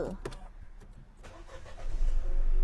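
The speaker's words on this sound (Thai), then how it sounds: "เอาสตาร์ทหน่อยไหมสตาร์ทหน่อยไหมฟังเครื่องหน่อย" A 2020 Nissan Almera 1.0 Turbo VL, a used grey car, starts up with a short crank that catches into a rising engine note, close and fairly clear, with a little background noise.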